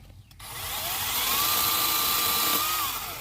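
An electric saw whines steadily as it cuts through branches of a large yang na tree during pruning, a sustained high-pitched motor tone starting after a brief pause and running continuously, loud and close.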